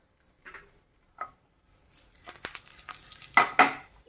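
Short bursts of sizzling as spices and asafoetida hit hot oil for sambar tempering, mixed with clinks and scrapes of a utensil against a pan, growing louder toward the end.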